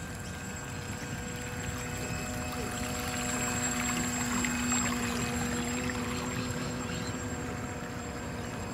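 An RC model of the Fairey Huntress 23 boat with fuel drums runs on a pond, its small engine giving a steady buzzing whine with droning tones over splashing water, moderately near and continuous, with no talk.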